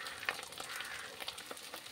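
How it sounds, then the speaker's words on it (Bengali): Spice paste of garlic, green chilli and salt fries in a pan for doi katla, a soft steady sizzle with light crackles and stirring scrapes, faint and close. "মশলাটা ভাজা ভাজা হয়ে গেছে"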